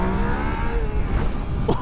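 A 2019 Yamaha Niken three-wheeled motorcycle in riding mode 1 revs briefly as the throttle opens, a close, steady engine note rising over about two seconds.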